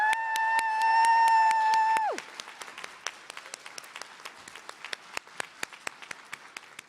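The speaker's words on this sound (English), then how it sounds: "Give yourselves one more round of applause and a big woo-hoo." Graduates at a teacher pinning ceremony give a short burst of applause and a high 'woo-hoo' cheer for about two seconds, then a few scattered claps trail off in a quieter room.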